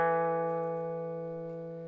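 A single electric guitar note from a blues lick in E rings out clean and sustained, slowly fading, played alone.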